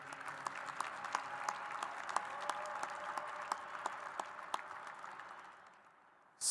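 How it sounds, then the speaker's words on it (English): An audience applauds graduating career and technical education students at a 2024 high school graduation ceremony. The clapping is steady, dense and sustained, with a few sharper claps standing out, then fades toward the end before a sudden loud burst. "Please applaud these students for their involvement in career and technical education."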